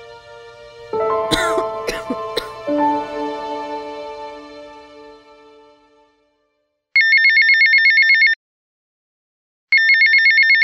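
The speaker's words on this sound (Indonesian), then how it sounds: "suara dering menandakan sebuah telepon masuk" An incoming-call phone ringtone chirps in two short repeated electronic bursts, each a rapid warble, after a fading musical passage with a cough-like sound near the start.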